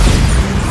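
The Bombarda explosion spell in the Hogwarts Legacy video game, a single loud, deep booming blast with heavy low rumble, very brief and close.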